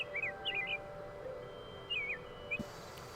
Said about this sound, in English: Are those just stock bird noises?